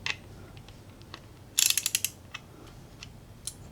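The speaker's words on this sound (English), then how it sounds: "Of course that won't work if the ratchet's going the wrong way." A ratchet wrench tightens a bolt on a portable solar power generator build, with a quick burst of rapid clicking in the middle and scattered lighter clicks before and after, heard close and without talk.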